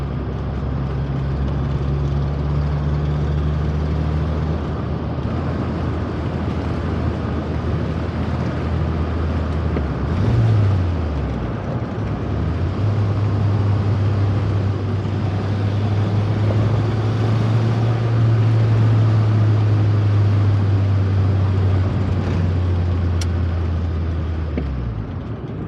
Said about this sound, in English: now we're in a baby Ferrari and it makes Yugo noises